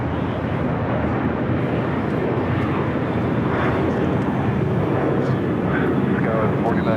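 Delta Connection SkyWest regional jet arriving on runway 24 right at Los Angeles International Airport from Reno, a steady broadband jet roar lasting throughout with a voice talking over it.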